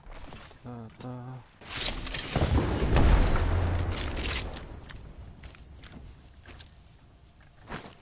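An Arc Star grenade in Apex Legends lands and detonates with a loud, sustained rumbling boom that swells and slowly fades, joined by sharp gunfire and game effects, after a short burst of voice at the start.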